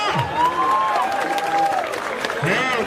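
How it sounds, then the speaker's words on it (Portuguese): Crowd claps and cheers at a Brazilian freestyle rap battle, a dense, steady roar of applause over about three seconds, with voices calling out through it. "Palmas pra batalha!"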